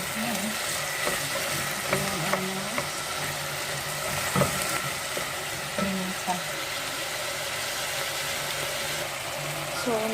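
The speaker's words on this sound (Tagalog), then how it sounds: "Ilalagay na natin ang bawang sibuyas at ang giniling na hodo." Garlic, onion and ground pork fry in oil, a steady sizzle with occasional louder pops and stirring knocks, fairly close.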